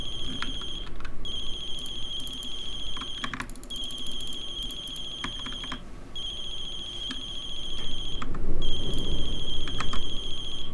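Telephone ringing in the horror game The Closing Shift, repeated electronic ring bursts in a steady pattern with short gaps, moderately loud over a low background hum.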